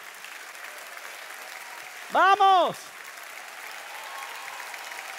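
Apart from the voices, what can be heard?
church congregation applause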